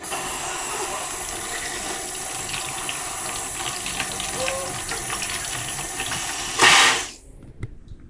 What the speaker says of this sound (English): First step, wash the fruit.